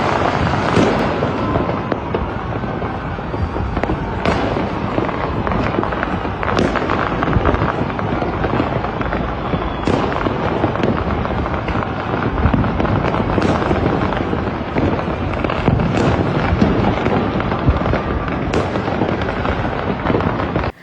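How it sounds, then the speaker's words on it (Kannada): Firecrackers and fireworks bursting over Bengaluru's high-rise skyline during street celebrations by cricket fans after an RCB title win, a continuous loud barrage of crackling pops and booms with sharp, frequent bangs. "ಬೆಂಗಳೂರಿನಲ್ಲಿ ಪಟಾಕಿಗಳನ್ನ ಸಿಡಿಸುತ್ತಾ ಸದ್ದು ಮಾಡಿದ್ರು"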